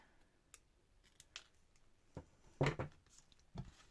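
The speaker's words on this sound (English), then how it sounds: "And then again, snip off the bits you don't need." Scissors snipping off excess paper in a craft project, a few quiet crisp cuts spaced apart, close and faint with no talk.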